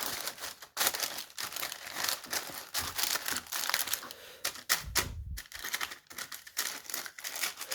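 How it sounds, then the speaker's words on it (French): Baking parchment paper being handled and laid flat over a dampened surface to make a palette for acrylic paint, giving close, continuous crinkling and rustling with sharp crackles throughout, no speech. "Par au-dessus, on va placer le papier sulfurisé de cuisson."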